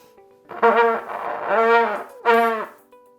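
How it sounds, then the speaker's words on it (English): Three sustained trumpet tones played with overly tight, tense lips, giving a pinched, strained quality, each held under a second with short gaps between, played alone and fairly close. "Some players will form their lips too tight and will have a very tense sound like this."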